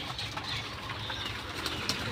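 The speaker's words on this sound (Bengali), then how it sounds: "সব বাঘা দেখেন সিলভার বাঘা সব বাঘা কবুতর" Silver Bagha pigeons feeding in a loft give soft, steady cooing over a dense bed of bird noise, with light flutters and no speech.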